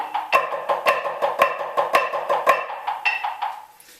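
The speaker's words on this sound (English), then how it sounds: "the measure of check is just a measure of 4 Flam accents" A snare drum plays a steady run of four flam accents, sharp accented hits with grace-note flams, evenly spaced, close and crisp, then rings out briefly.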